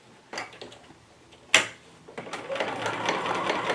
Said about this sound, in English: when I come back I'm going to do a top stitch all the way around